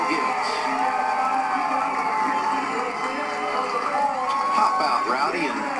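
Hometown grandstand crowd at a 2016 NASCAR Xfinity race after Kyle Busch's win, a continuous wash of cheering and shouting under a loud commentator's voice, with rising whoops near the end.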